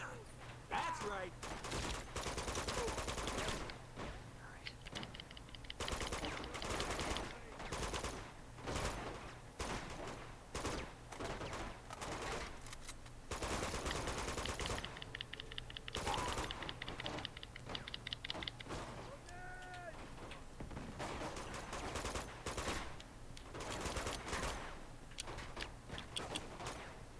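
Sustained gunfire aimed at the player in Uncharted 2: Among Thieves, dense rapid bursts of shots running almost continuously with short lulls, some vocal sounds and game noises mixed in underneath.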